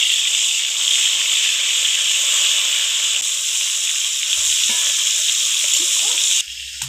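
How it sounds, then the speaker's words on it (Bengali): Katla fish pieces rubbed with salt, turmeric and dried chilli hit hot oil in a kadai, producing a loud, steady, close hiss that holds for several seconds before dropping away abruptly at the end. "তেল গরম হয়েছে, এখন এক এক করে মাছ দিয়ে দিব।"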